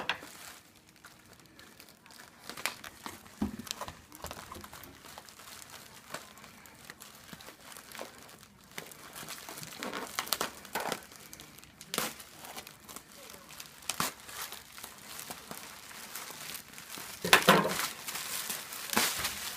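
Bubble wrap packaging around a gift is unwrapped close by, with irregular crinkling, rustling and occasional tearing and crackling bursts that build louder near the end, and scattered voices in the background.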